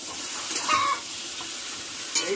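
A spoon stirs a thin grass carp curry with drumsticks and aubergine in a pan, making soft scraping and light sizzling over a couple of seconds, with brief faint clinks.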